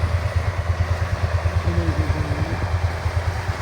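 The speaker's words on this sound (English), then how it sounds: "take a picture of the tractor working the ground" A 240 horsepower tractor pulls a 36-foot field cultivator across a field, its engine throbbing in a steady, rapid low pulse, loud and close, with a faint whine rising briefly over the top.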